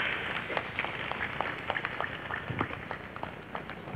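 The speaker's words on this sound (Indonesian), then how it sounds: "Tepuk tangan." A crowd applauds at a PWI oath-taking ceremony in Blitar, East Java, a soft, somewhat distant patter of many hands clapping with no one speaking.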